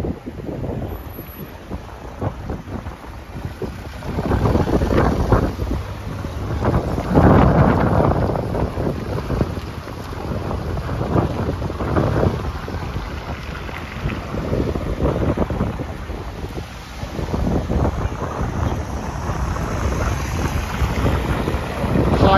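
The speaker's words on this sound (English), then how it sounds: "It's still windy in St. Petersburg, but I hope my microphone with the windshield helps." Strong wind gusts along a St. Petersburg city street, buffeting the microphone in loud, uneven rumbling surges that swell and ease throughout, with no clear talking over it.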